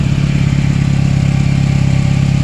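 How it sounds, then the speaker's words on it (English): Dodge Ram engine runs steadily after a cold start with new spark plugs, a loud, close, even rumble with a fast regular pulse and no talking. "She sound good, as y'all can see for the engine sound test."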